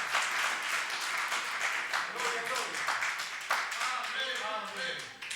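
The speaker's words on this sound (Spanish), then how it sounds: "De un aplauso." A church congregation claps, a full wash of applause running throughout, with a voice speaking over it toward the middle and end.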